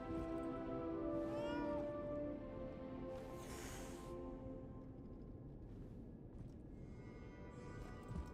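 A cat meows repeatedly in the video game Lies of P, several clear, fairly close mews over a low steady ambient hum.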